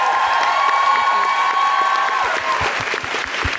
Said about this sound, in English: Big round of applause for Sabrina Mahfouz.